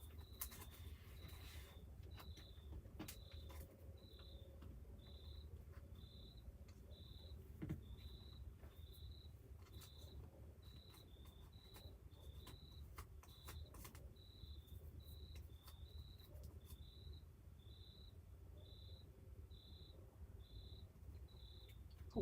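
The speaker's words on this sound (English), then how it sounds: "I wonder if y'all can hear the crickets." Steady, rhythmic cricket chirps pulse through a quiet outdoor night, a faint background hum beneath the regular high trills.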